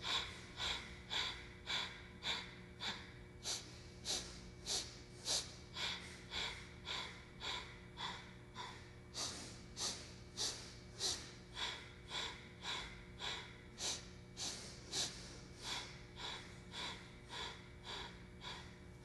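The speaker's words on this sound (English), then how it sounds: "Inhaling in 3 sniffs" Rapid kundalini yoga breathing in segmented sniffs, a steady rhythm of short sharp nasal inhalations followed by longer exhalations, repeated about thirty times and heard close and clear with no talking.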